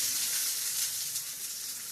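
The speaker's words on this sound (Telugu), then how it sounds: "ఇలా చిన్న చిన్న ముక్కలు కట్ చేసి పల్లీలో వేసేస్తే అవి రెండు వేగిపోతాయి" Peanuts and small tomato pieces fry in a pan for chutney, giving a loud, steady, close-up sizzle throughout with no talking.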